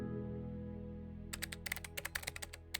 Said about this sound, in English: I only heard loud typing noises after that.